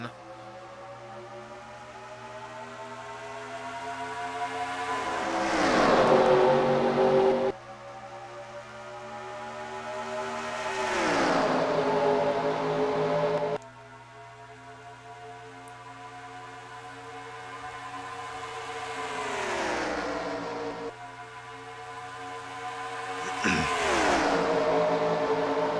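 Race cars in a NASCAR-style video game at Atlanta roar loudly in repeated swells, each engine whine climbing and then sweeping down in pitch as the cars surge past, one after another.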